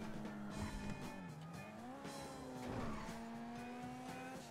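A car in GTA Online races at speed, its engine note climbing and dipping through gear shifts, with tire squeal, loud and continuous.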